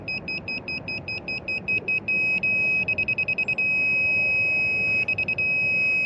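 A Johnson rotary laser receiver beeps rapidly in quick bursts, then gives a steady continuous tone with further short pulsed runs, loud and close over a quiet background.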